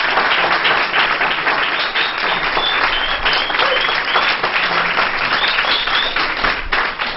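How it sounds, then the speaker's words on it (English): A full-house audience at a talk gives a round of applause, loud, dense and sustained clapping filling the whole stretch without a break. "Can we give Dr. Fu-Kiau, Bunseki, another round of applause?"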